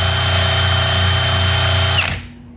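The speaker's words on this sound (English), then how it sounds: "just stick a drill on it" A power drill spins a string trimmer engine, giving a loud, steady motorized whine with engine drone for about two seconds before it winds down and cuts off abruptly.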